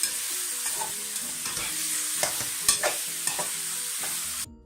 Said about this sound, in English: While we fry it, we have to keep big fire.